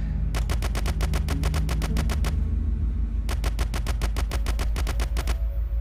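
Rapid Uzi submachine gun bursts in the zombie shooter One More Night, two long strings of evenly spaced shots separated by a short pause, loud and dense over a steady low game background.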